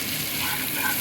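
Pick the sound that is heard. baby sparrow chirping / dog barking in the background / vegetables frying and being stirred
vegetables frying and being stirred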